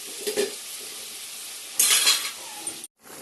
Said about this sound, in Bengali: আলুটা ভেজে নিচ্ছি। তেলের ওপরে দিয়েছি গোটা জিরে